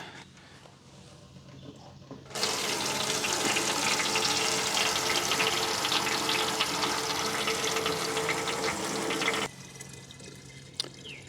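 Water from a pressure tank gushes into a bottle in one steady, loud rush lasting about seven seconds, then cuts off sharply to a quiet background with a faint click.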